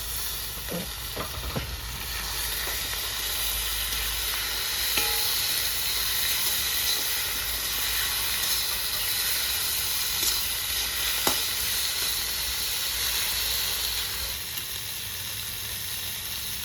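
Ginger, garlic and green chili paste with tomatoes sizzles and fries steadily in a pan, a continuous close hiss with occasional stirring scrapes and clinks, no talking.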